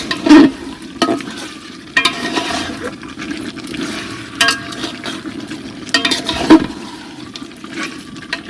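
Meat being stirred and fried in a pot for a home-cooked lunch, with scraping and sizzling sounds and several sharper knocks of the spoon against the pot, fairly close and without talk.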